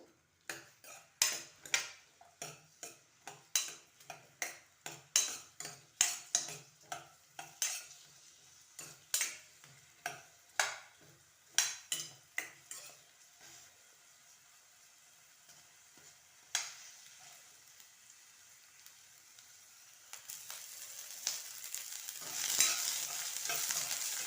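Masala spices frying in a little oil in a pan for mushroom gravy: a run of sharp, rhythmic spoon-and-pan scrapes and clinks over a soft sizzle, then the stirring stops and a steadier, louder sizzle builds near the end.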